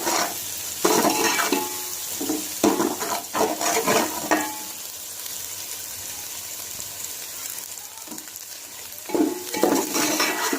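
Egg fried rice being stirred with salt and black pepper in a hot pan, with a steady sizzle under repeated scraping and clinking of a spoon against the pan, near and fairly loud.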